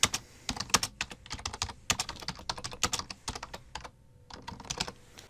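Text being typed on a computer keyboard in an online editor, with rapid, uneven bursts of crisp key clicks and a brief pause near the end, close up and with no talking.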